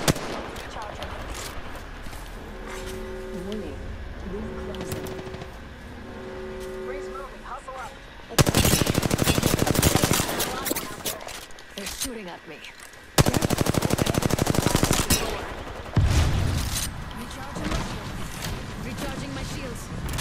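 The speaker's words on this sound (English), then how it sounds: "They're shooting at me." Bursts of automatic gunfire crackle in Apex Legends, loud rapid rattling volleys that start and stop in several sharp bursts, mixed with game effects and a player's voice talking between shots.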